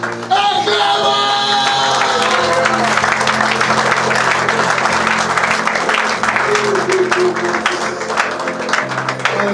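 A church congregation in Roubaix claps and cheers loudly and continuously during worship, with shouts and voices mixed into the sustained applause.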